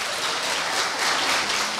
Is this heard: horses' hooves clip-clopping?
no